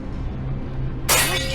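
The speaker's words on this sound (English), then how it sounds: "A huge piece of glass fell and smashed just a step from another psychic, Olena Kurilova." A huge piece of glass falls and smashes: a low rumbling hum gives way to a sudden, bright, loud crash of shattering glass with a ringing tail.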